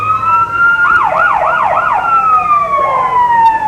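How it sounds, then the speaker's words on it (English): Emergency vehicle sirens at a small-town 1993 Christmas parade in Neodesha are toyed with, sweeping wails broken by quick yelping warbles. The sirens are loud and nearby, and there is no talk over them. "the guys who have the sirens are playing with them"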